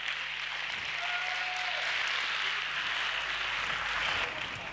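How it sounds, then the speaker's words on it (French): Audience applauding at the televised final of a talent show, a steady, dense wash of clapping that holds evenly throughout without a break. "Merci encore une fois de vous applaudir."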